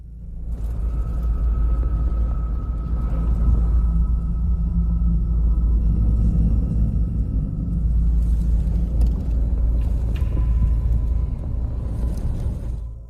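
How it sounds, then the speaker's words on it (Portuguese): Steady low rumble of vehicles moving along an interstate highway in Delhi during a dust storm, a continuous dense drone of traffic with no voices. "Veículos trafegam com cautela em uma rodovia interestadual, enquanto uma tempestade de poeira envolve os arredores em uma névoa empoeirada."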